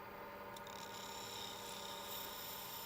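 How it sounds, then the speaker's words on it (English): A drill cuts away material from a handmade custom pen cap, a steady faint whirring grind running throughout with a small scrape near the start and no voices. "got a drill in there, it's pretty easy to cut away."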